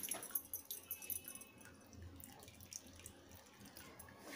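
Water squeezed and draining out of a cloth bundle of freshly made homemade paneer, a faint, steady trickle and patter that continues throughout without speech.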